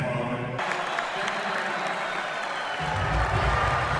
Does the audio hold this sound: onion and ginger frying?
no